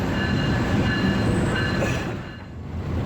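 A train rolling into Jhelum railway station in Pakistan during heavy rain, heavy low rumble with metallic wheel squeals, steady and loud, easing slightly near the end.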